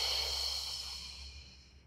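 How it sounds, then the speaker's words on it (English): A single long exhale during a beginner Pilates exercise: a soft, airy breath heard close, steady at first and gradually fading over about two seconds, with no speech. "And breathing out,"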